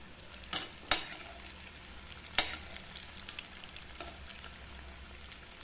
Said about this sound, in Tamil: இப்போ நம்ம போண்டாவை கிளறி விடலாங்களா